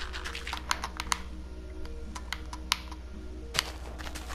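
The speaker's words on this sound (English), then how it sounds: "Sorry if you hear my buttons on my controller." Game controller buttons click in quick irregular taps during Minecraft play, light and close, with a few sharper louder clicks over a steady low hum; no speech.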